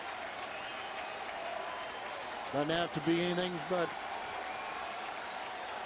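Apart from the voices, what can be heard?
crowd cheering at a baseball game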